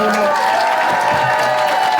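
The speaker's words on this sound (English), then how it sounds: "let's give these gentlemen a round of applause" Convention crowd at a CHiPs TV show reunion panel at Retro Con, a continuous wash of applause and cheering over a loud hum, with a voice talking through it.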